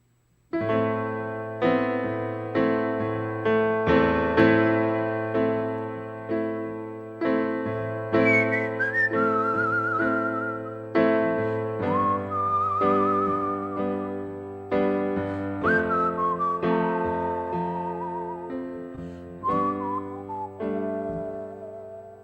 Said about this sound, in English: I'm also going to do some whistling